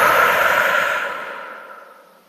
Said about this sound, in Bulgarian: Дишаме дълбоко през носа. Издишваме през устата.